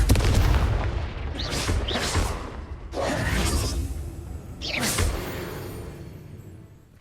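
Confringo blasting spell in the Hogwarts Legacy video game: several deep booming blasts with whooshing bursts, arriving in quick succession and then trailing off into fading rumbles, loud and close.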